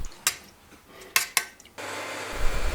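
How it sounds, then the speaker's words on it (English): A whisk clinks against a pan as gelatin is worked into black butter off the heat, a few sharp metallic taps followed by a steadier scraping rustle. "With the pan off the heat, whisk in the gelatin, making sure it's all dissolved."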